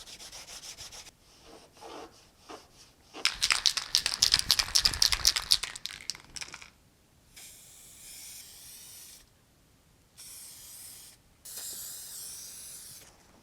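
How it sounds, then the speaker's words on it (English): An aerosol can of spray paint hisses in short bursts, loudest in one sustained spray, then several quieter intermittent sprays with gaps of silence between them, close by. "I'm just gonna clean this off and put some spray paint on it"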